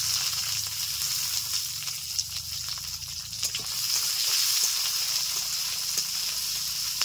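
Onion goes into a pan of frying poha, giving a steady, close, loud sizzle with faint stirring scrapes throughout.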